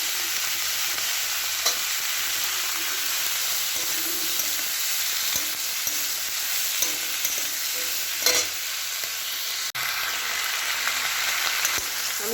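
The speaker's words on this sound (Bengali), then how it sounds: "এবার ক্যাপসিকামগুলো দিয়ে দেবো।" Capsicum fries with softened onions in a pan, a steady close sizzle for the whole stretch, with occasional soft scrapes and taps of a spatula stirring and no voices.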